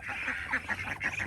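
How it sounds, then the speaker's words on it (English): A group of loud ducks quacks and honks nearby in quick overlapping bursts, several calls packed close together with no talking. "Hello, you very loud ducks."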